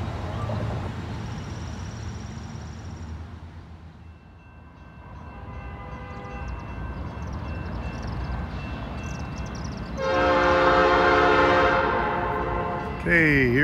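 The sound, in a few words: Norfolk Southern intermodal freight train passing with horn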